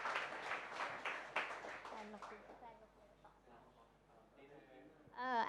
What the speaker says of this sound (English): can we have like another round of applause for the speakers?